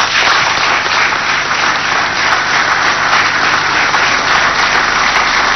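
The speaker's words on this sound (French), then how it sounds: "vous prie d'applaudir chaleureusement" Warm, loud audience applause at a state ceremony in Chad honoring President Idriss Déby Itno, a continuous, dense roar of many hands clapping throughout.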